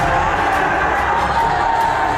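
A loud, dense crowd roars continuously in a riot clashing with police near a gurudwara in Nanded, Maharashtra, during Hola Mohalla, a steady wall of shouting with no gaps.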